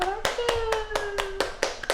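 A few people clapping hands in a room, sharp rhythmic claps roughly every quarter second, close and distinct, with a voice and a faint tone lingering underneath.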